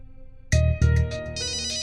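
A mobile phone ringtone plays up close, an electronic melody of bright repeated tones starting abruptly and continuing steadily, with no talking over it.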